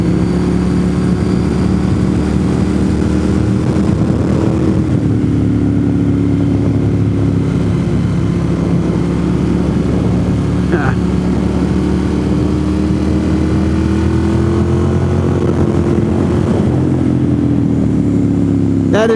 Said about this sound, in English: I love the sound of a dry clutch underneath you.